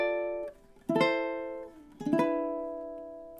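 Ukulele strumming chords from God Rest Ye Merry Gentlemen: two separate quick strums, each ringing out and fading, played close and fairly quiet with no voices.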